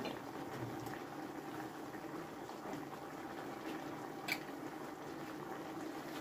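Tap water in a pot coming to a boil on a kitchen stove, with a faint, continuous bubbling hiss and a brief louder clink partway through.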